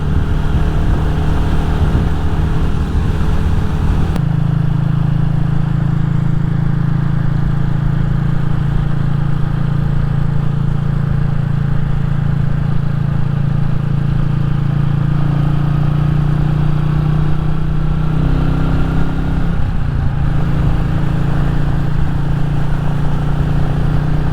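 A Royal Enfield Classic 350 motorcycle on the road, a loud steady engine drone and wind rumble held throughout with a slight shift in pitch partway as it rides on.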